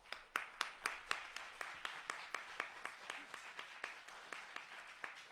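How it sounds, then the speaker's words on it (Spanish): Audience applause at an environmental justice panel, a steady patter of many hands clapping for several seconds, moderately distant and even in level, with no talk over it. "Les pido también para ella un fuerte aplauso."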